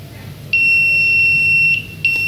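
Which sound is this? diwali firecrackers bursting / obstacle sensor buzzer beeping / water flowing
obstacle sensor buzzer beeping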